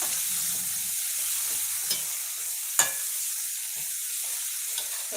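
Shallots sautéing in a pan for biryani give a steady close sizzle, with a couple of sharp utensil clicks and scrapes breaking through the hiss.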